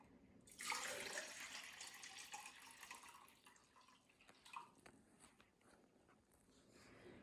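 Water is poured from a container into a cup sitting on a scale in a home resin-crafting studio, a soft close trickle and splash that fades into faint drips and small clinks.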